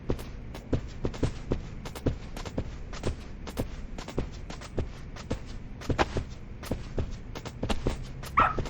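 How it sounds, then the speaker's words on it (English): A dog in the video game Lost Judgment barks and whimpers in short, sharp bursts repeated through the stretch, mixed with footstep-like taps over a low steady hum. "Good dog. Very good dog."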